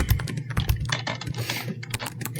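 Fingers tap a computer keyboard in a quick, close burst of uneven keystrokes, short and unaccompanied by speech.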